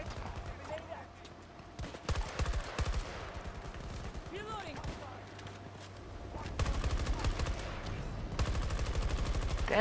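Rapid automatic gunfire in Battlefield 2042, with repeated loud bursts of closely spaced shots and a voice talking between them.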